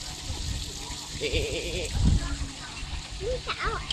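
Sheep bleat repeatedly in wavering calls at a sheep farm, fairly close, with a few overlapping bleats and a low thump amid background voices and farm noise.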